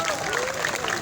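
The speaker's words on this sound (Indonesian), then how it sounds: "Tepuk tangan untuk teman-teman yang menggunakan pakaian hitam." Students at a street protest in Solo clap as a crowd, a dense, steady patter of many hands filling the whole moment, with voices mixed in.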